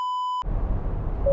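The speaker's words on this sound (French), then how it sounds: "Déjà leur bip-bip là qui fait à chaque fois depuis les dernières mises à jour" A Tesla driver-assist warning beep sounds once, steady and clear, then cuts to road noise inside the moving car before a second tone begins near the end.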